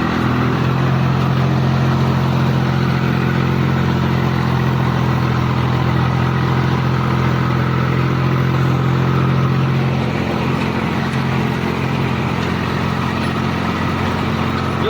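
A tractor's engine drones loud and steady while its tyres spin uselessly in a waterlogged lane, a continuous low mechanical roar that eases slightly near the end.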